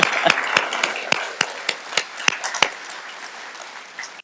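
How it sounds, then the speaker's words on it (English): Scattered applause from a conference audience, a few distinct sharp claps standing out over a soft patter that thins and fades toward the end. "If we could give him a round of applause."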